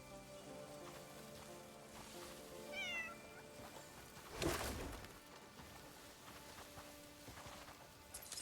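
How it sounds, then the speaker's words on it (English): A cat meows in the rain within the video game Crimson Desert, a short rising mew over steady rainfall, quiet game music and a brief louder thud near the middle. "Almost squished my kitty cat."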